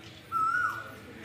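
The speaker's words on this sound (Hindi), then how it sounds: "कितनी प्यारी सी साउंड आ रही है कोयल की" Asian koel calling near a temple, a single clear rising whistled note lasting about half a second over faint background ambience.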